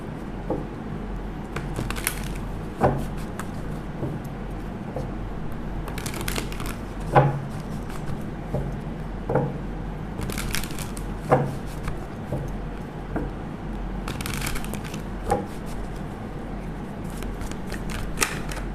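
Tarot cards shuffled by hand, soft papery riffling bursts recurring every few seconds over a quiet room, with no talking.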